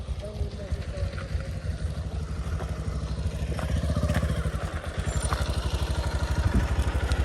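Motorcycle riding on a badly broken rough road in Nepal, a close, pulsing engine drone with rattles and wind buffeting, steady throughout while a voice talks over it.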